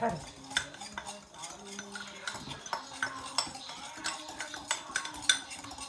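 A spoon stirs food in a pot on the stove, making repeated scraping strokes and light metallic clinks in an irregular rhythm, close and clear with no talking.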